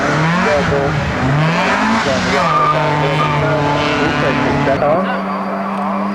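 A racing car on a hill-climb corner spins and skids, its engine note sweeping and tyres scrabbling loudly while a commentator talks over it throughout.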